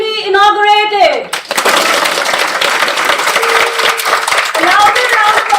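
A festival inauguration audience claps in a dense, continuous round of applause that follows a brief stretch of voice at the start.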